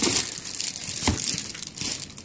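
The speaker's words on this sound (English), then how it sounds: "wrapped in a nice plastic bag" A plastic bag crinkles and rustles close up while a forestry safety helmet is unwrapped, with a dense burst of crackling that continues throughout the short stretch.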